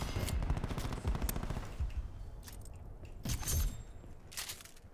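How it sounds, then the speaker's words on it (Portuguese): Gunfire in the video game Black Ops 4, with several sharp bursts and single shots scattered over a few seconds, some rapid and close, others fainter, and with no talking over them. "O tempo inteiro eu dou tiro ao mesmo tempo que o Drizzy no cara."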